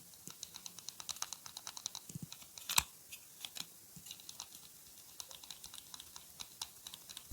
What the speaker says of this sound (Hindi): जब आप इसे ओपन करते हैं तो आवाज करता है, cut cut cut cut cut